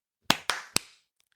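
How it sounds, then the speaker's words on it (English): Three sharp hand claps from a group, close and loud, spaced about a quarter second apart, each with a short decaying tail, followed by quiet. "Can we clap again?"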